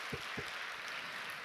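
Applause rises in a church gathering, a soft, distant wash of many hands clapping, steady and faint through the background, with two dull low thumps near the start.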